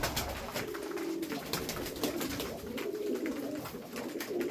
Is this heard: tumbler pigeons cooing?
yes